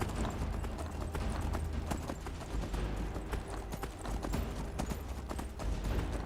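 Steady clip-clop of horse hooves at a trotting pace in Skyrim, close and continuous, with a faint whinny-like tone and no talking.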